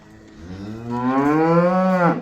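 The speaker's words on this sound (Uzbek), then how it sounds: "Mana mollar ham qarang." Cattle at a livestock sale give one loud, close, drawn-out moo that swells and then breaks off, heard alone without talk.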